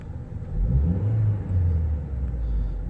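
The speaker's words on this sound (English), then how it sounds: "So the vehicle does normally idle nice and low, and we'll give it a rev." A 2001 Audi A4 Quattro engine rumbles low at idle, then briefly rises in a short rev before settling again.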